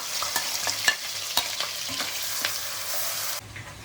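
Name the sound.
onions frying in oil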